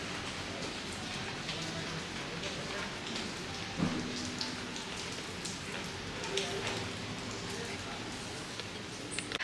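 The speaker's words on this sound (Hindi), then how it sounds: "अभी करेंटली जो है वो बारिश एकदम चल रहा है." Heavy rain pours steadily in Kerala, a dense constant hiss of drops on surfaces with a few louder nearby splashes, and a faint voice now and then beneath it.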